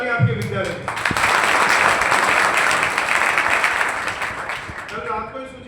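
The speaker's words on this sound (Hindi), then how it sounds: "तो एक बार जोरदार ताली आपके विद्यालय में।" Applause at a school award ceremony for 12th board students, a loud burst of crowd clapping that swells after a brief voice, holds steady for several seconds, then fades as talking resumes.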